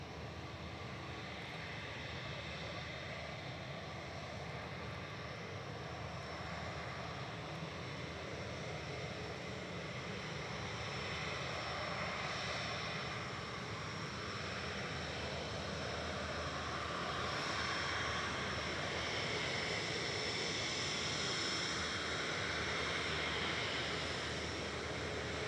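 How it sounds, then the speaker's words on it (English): A Singapore Airlines Airbus A350-900 jet departs Manchester Airport, its broad engine roar steady and sustained at moderate distance, slowly swelling toward the end. "Here's Singapore departing back to Singapore with flight 301 9V SMW"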